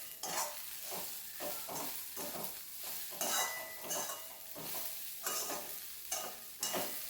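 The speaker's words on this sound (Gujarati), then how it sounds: "છેલ્લે લીલા ધાણા એડ કરી એક વખત મિક્સ કરી લેવાનું" Pav upma with green coriander being stirred in a pan, a series of steady scraping and clinking spatula strokes over a faint sizzle, close and fairly quiet with no talk.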